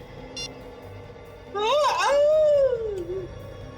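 Inside a building, a man lets out one long, loud, wavering shout that rises and falls in pitch for about two seconds after a short quiet pause.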